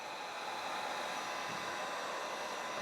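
Steady, close rush of air from a blower aimed at poured epoxy resin on a wood charcuterie board, pushing the surface into waves; one continuous whoosh with no talking.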